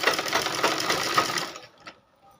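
A sewing machine stitching blouse fabric, its close, fast, even needle rattle running steadily for about a second and a half before it slows and stops, leaving a couple of faint clicks.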